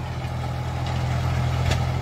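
Mahindra Yuvo Tech Plus 405 tractor, a three-cylinder 40 hp engine, runs at a steady loud idle with a deep low drone and a constant rumble throughout.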